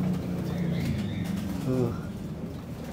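A pigeon cooing in a young-bird loft, low throaty rolling coos close by, with a brief higher call partway through over a steady background hum.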